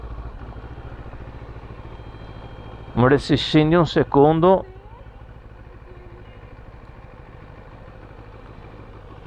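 A motorcycle idles nearby with a steady low rumble throughout, while a person speaks briefly over it partway through.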